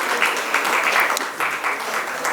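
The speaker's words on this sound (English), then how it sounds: "A big round of applause for ma'am" An audience at an education leadership conference claps steadily, a dense, even patter of many hands filling the room.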